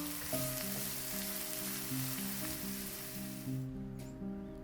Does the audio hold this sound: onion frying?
yes